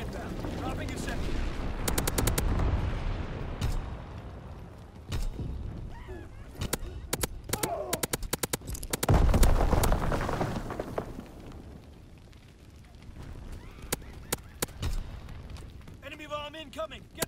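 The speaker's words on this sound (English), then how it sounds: "Enemy bomb incoming. Get to cover. We got flight concluded. Low altitude bomber inbound. Dropping incendiary." In Call of Duty: WWII, a low-altitude bomber drops incendiary bombs, setting off sharp blasts and bursts of gunfire. Impacts come in irregular clusters with heavy booms, and shouted in-game voice callouts run under them.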